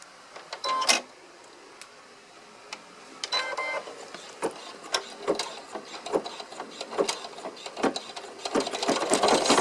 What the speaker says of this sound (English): and we'll stitch this down.